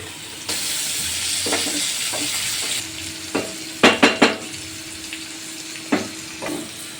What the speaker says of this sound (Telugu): రెండు నిమిషాలకు ఒకసారి ఇలా కలుపుతూ మంచిగా ఫ్రై చేసుకోవాలి, మాడిపోకుండా ఉంటాయి.